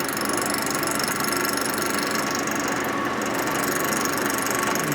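A machine steadily cutting into the welded case of a 1947 Harley-Davidson EL 74ci knucklehead engine, a continuous close grinding, chattering drone that holds an even level with no pauses.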